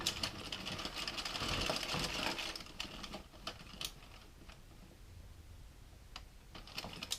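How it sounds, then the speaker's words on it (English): An Addi Express Pro knitting machine cranks rows of yarn with a rapid clattering, ticking mechanical rattle, louder at first then continuing at a lower level with sharper clicks. "I'm going to knit a total of 20 rows with this yarn"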